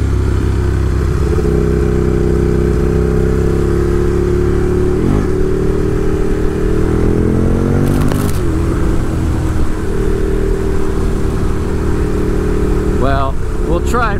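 A Ducati 1098 Streetfighter motorcycle engine runs steadily throughout a ride, loud and close with a sustained low drone that shifts pitch as the revs change, with a brief burst of wind or clatter midway and a voice near the end.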